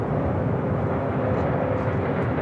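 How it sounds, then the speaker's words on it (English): Delta Boeing 767 heavy jet at LAX airport, a steady, loud broadband engine roar that holds constant throughout without breaks. "We do have a Delta Heavy 767 at 300 yacht heading to Honolulu, flight 465, pushing it back from Terminal 3"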